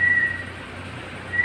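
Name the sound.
person whistling imitating a bird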